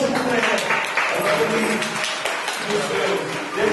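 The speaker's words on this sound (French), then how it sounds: "Applaudissons, s'il vous plaît." An audience breaks into sustained, dense applause, a steady wash of many hands clapping close by throughout.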